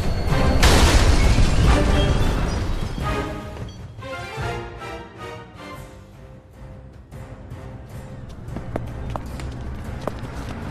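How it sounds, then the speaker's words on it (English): A radio drama explosion on railway tracks opens with a loud booming blast and rumbling debris, then fades into clattering, scrambling footsteps and rattling noise. "An explosion on the tracks!"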